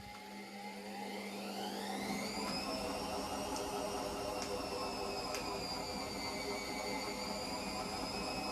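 A washing machine ramps up toward its full spin, its motor whine climbing steadily in pitch over the first few seconds and then holding a high, steady tone over a continuous rumble.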